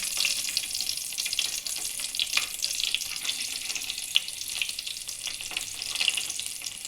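Whole spices and chillies sizzle and crackle steadily in hot oil for a fresh turmeric pickle, with a constant close frying hiss and scattered small pops, and no voices.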